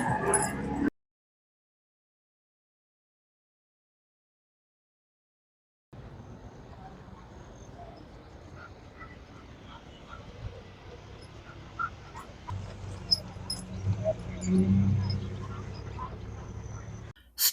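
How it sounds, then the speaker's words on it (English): Small dogs at a home in Cloudcroft, New Mexico give faint barks and whimpers after a short silence, growing louder near the end amid background shuffling. "Always having to try to get the doggies all squared away."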